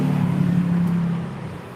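Street traffic outside a temple in Da Nang, Vietnam: a car or motorbike rumbles past close by with a steady engine drone that fades away over about two seconds.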